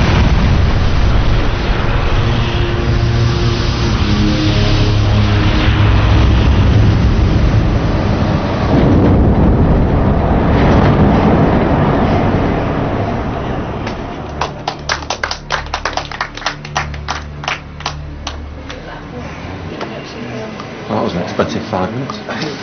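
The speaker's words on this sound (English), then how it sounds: "Blade-off testing is normally top secret, but for the first time, Rolls-Royce have released this footage. Although the engine was totally destroyed" A Rolls-Royce jet engine tears itself apart in a blade-off test, a loud sustained roaring blast of broadband noise that fades into rattling, clattering debris and crackling bursts, with a voice talking over it.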